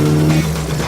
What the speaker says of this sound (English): You almost forget that you're in a street car as you're screaming through turn 5.